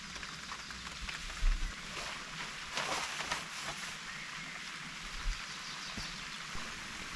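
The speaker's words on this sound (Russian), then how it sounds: "Дождь особо не был помехой в моей работе." Steady light rain patters continuously on surfaces in a forest, a soft even hiss with occasional heavier drops, no voices present.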